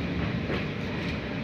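The Garib Rath Express AC train runs near Kanpur with a steady, continuous rumble of wheels and carriage, heard from inside the moving train and with no voices.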